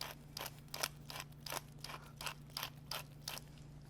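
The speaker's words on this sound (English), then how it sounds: "And then we'll do some fresh ground pepper." A pepper mill grinds fresh pepper over a Middle Eastern dish in a kitchen: a rapid run of about nine crisp, crunching twists, close and evenly paced, over a steady low hum.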